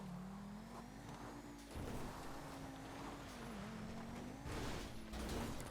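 A video game car drifts and skids, its engine droning at a steady high pitch with bursts of tire squeal and scraping, heard quietly and continuously without talk.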